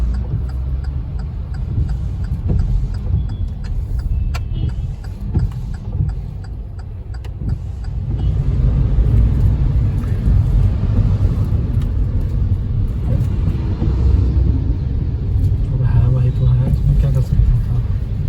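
Slow-moving road traffic on a hill-station route near Palanpur, a steady low engine rumble of cars creeping along with scattered ticks and knocks, fairly close and continuous throughout.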